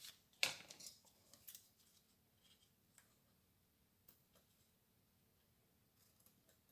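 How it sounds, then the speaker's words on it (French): Scissors cutting paper cards, a sharp close snip at the start followed by softer sparse clicks and snips in an otherwise quiet room. "C'est pas le meilleur des ciseaux que j'ai pris là."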